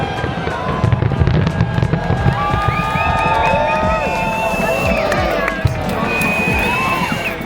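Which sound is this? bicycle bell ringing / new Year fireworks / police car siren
new Year fireworks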